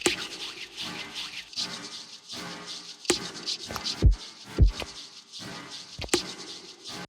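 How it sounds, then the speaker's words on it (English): A hand-rub sample run through a de-esser on a sidechain, giving dry, brushy friction strokes in a steady rhythm, with a few sharp clicks and low thumps mixed in, close and fairly quiet. "The hand rub was really to bring some more movement to the sound."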